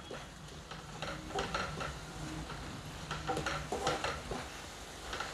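Fenugreek leaves frying over a high flame in a pan, giving a steady close sizzle broken by scraping stirs and light clinks of a utensil throughout.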